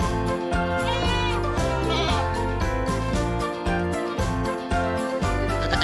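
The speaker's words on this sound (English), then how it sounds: "If you guessed a mountain goat, you're absolutely right!" A mountain goat bleats in repeated harmonic calls, loud and close, over a steady musical backing.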